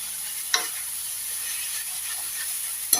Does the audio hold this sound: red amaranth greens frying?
yes